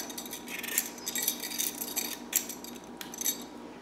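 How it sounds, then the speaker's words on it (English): Vegetable peeler shaving the dark green rind off a watermelon, a steady series of close, light scraping strokes with faint clicks and taps, each stroke a soft rasping burst. "I'm just gonna peel away that dark green rind."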